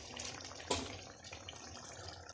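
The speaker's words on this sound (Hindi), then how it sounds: "और 1 कप पानी इसके अंदर ऐड कर रही हूँ" One cup of water is poured into a fish curry with yogurt, green chilies and coriander in a pan, a soft, continuous splashing pour with a brief louder burst near the start, fairly quiet and without talk.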